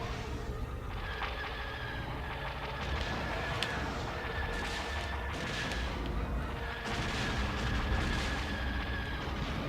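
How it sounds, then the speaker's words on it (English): Rapid blaster fire from starfighters in the Star Wars: Rogue Leader video game. Dense, continuous bursts of laser shots crackle over a rumbling battle din of engines and explosions, loud throughout. "You can see the rate of fire for the blasters can make it quite deadly, though."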